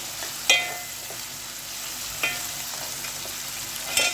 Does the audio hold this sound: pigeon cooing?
no